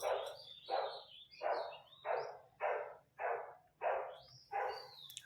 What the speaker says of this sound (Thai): ฟังเสียงชาวบ้านเห่า เสียงใครเนาะ เสียงใครเห่าก็ไม่รู้